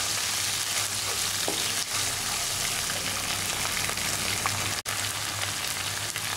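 Ginger garlic paste fries in a pan for a brinjal, potato and tomato curry, giving a steady, dense sizzle with a few faint stirring clicks and no talking.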